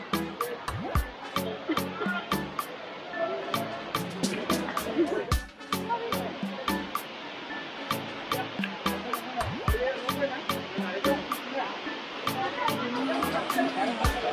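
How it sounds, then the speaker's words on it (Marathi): Gadadi waterfall pouring through forest, a steady broad rush of falling water with splashing, continuous and fairly close, with voices audible beneath it at times. "बाहुबली धबधबा आहे, बाहुबली."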